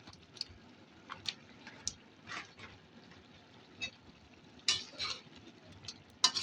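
Sautéed mixed vegetables with chicharon stirred in a pan, irregular utensil scrapes and clicks over a soft sizzle, close and fairly quiet, with no talking.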